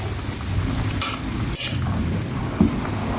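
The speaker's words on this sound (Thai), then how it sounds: "ใส่น้ำมะนาวลงไป หนึ่งกระบวย" Hot liquid sizzling and bubbling in a pot of chicken and mushroom tom yum soup as a ladle of lime juice goes in, a steady close hiss with a short splash midway and a small clink near the end.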